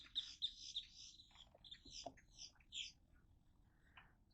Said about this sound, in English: Look at the pretty birds coming. All cardinals.